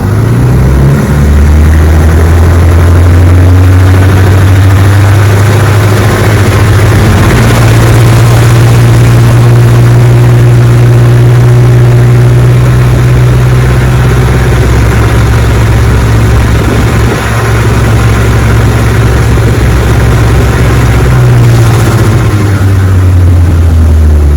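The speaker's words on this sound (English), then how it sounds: "So that's the history of this motor, and here's how it runs." A vintage 1958 motor running steadily, a loud, close, continuous low drone with a strong even hum and a slight shift in pitch partway through, with no talk over it.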